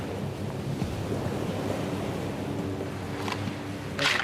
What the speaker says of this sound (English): huge ocean waves smash directly into buildings